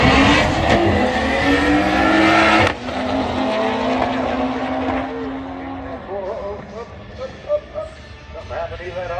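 Race cars roar at full throttle on a circuit as a Honda Civic comes blowing past, engine tones sweeping up and shifting, loud and close with a sharp drop midway, while someone talks over the engines.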